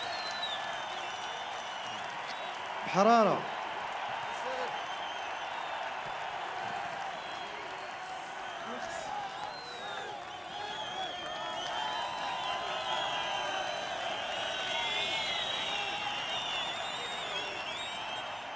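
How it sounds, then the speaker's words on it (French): An audience applauds at a large concert: a sustained, wide wash of clapping and crowd noise, somewhat distant, with one brief louder shout early on. "Je voudrais qu'on applaudisse tout le monde très fort"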